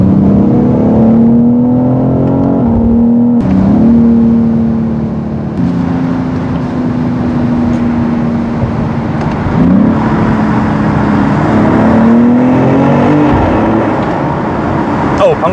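A BMW X3 M Competition SUV's engine and exhaust drone steadily from inside the cabin while driving, a deep low rumble with rising and falling revs and occasional louder bursts, heard continuously under someone talking.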